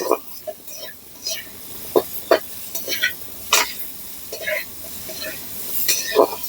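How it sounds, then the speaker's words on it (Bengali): Potatoes frying in oil with salt and turmeric crackle in a pan, broken by repeated scraping stirs and clinks of a spatula, close and fairly loud. "আলুর মধ্যে অল্প নুন দিয়ে দেব, একটু হলুদ গুঁড়ো দিয়ে দেব, দিয়ে হালকা করে একটু ভেজে নেব"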